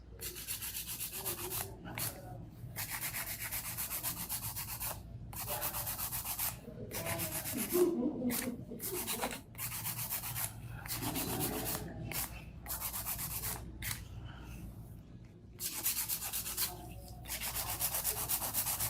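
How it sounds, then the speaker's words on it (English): Rhythmic scratchy rasping of a nail file hand-filing long nails, stroking back and forth, close and continuous with brief pauses between runs of strokes. "sometimes I like to hand file when it comes to longer nails"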